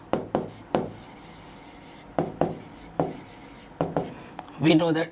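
Pen strokes scratch across paper during a maths lesson, coming in quick separated bursts with short pauses between, close and clear, ending with a moment of voice.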